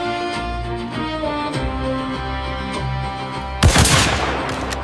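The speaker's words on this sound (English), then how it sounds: "Gunfire shattered more than silence." Burst of gunfire erupts near the end, a loud broadband crack cluster standing out over a sustained music bed.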